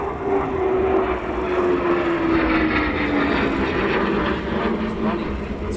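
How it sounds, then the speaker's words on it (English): An F-15 fighter jet passes overhead at RAF Lakenheath, a steady loud roar with a slowly falling engine whine that fills the whole stretch without a break. "So over the top now, F-15."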